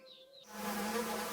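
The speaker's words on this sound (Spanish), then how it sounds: "¡Mosquitos molestos!" Pests buzz in a cartoon: a thin whine fades in and swells into a steady, close droning hum of mosquitoes that lasts to the end.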